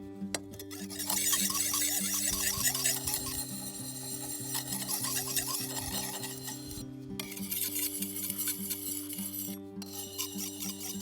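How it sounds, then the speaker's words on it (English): A knife edge rasps repeatedly across the fine side of a whetstone in steady grinding strokes, with background music playing underneath throughout. "We're on the finer side of the whetstone now. Smoothing out what we've ground out."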